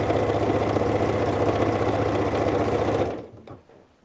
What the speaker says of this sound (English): I'm just going to sew all the way down here